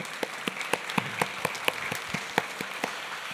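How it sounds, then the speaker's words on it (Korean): Applause from a church congregation after a sermon at a Full Gospel church in Daegu, light and sparse hand claps with distinct individual claps standing out over a quiet hall. "이 설교하고 박수 받기는 처음입니다."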